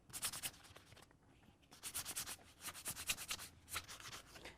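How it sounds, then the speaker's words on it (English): A sanding block is rubbed lightly over a plastic Hot Wheels track in short, close strokes, a dry scratchy rasp repeated in bursts with brief pauses between passes. "we're just going to take our sanding block and try to rough up some of these areas"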